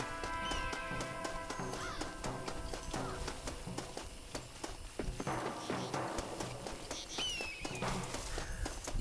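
A cry from an eagle in Red Dead Redemption, a few sharp descending calls over steady game ambience with hoofbeats and background noise, fairly faint.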